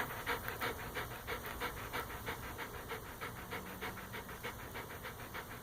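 A dog pants hard and steadily after chasing a ball, quick rhythmic breaths close by and fairly quiet, with no talking.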